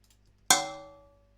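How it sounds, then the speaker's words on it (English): A single small tin-like tonal thump, part of a designed rolling-ball effect, strikes sharply and rings out with a bright metallic, cowbell-like decay lasting under a second, alone against near silence. "Got like a little tin tonal like thump."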